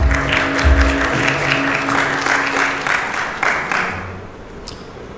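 An audience at a Hyundai Nexo product presentation applauds as the next presenter is welcomed to the stage, steady clapping that tapers off toward the end.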